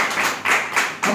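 A church congregation claps in praise of God, bursts of dense applause rising and falling in a quick rhythm, close and fairly loud.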